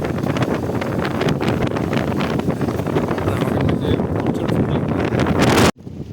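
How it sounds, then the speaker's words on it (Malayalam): Strong coastal wind at Kanyakumari roars steadily into the microphone as loud, continuous buffeting that cuts off abruptly near the end. "ഭയങ്കരമായിട്ട് കാറ്റ് പിടിക്കും ഗൈസ്."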